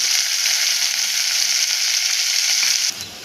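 Green chillies, onion and curry leaves for a mutton curry hit hot oil in a loud, close, continuous sizzle that drops off sharply at the end.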